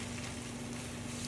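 Pre-made rice sizzles in an electric frying pan, a steady, dense frying hiss with a low hum beneath, continuous and close with no talking.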